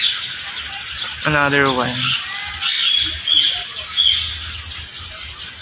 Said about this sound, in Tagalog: So beautiful parrot.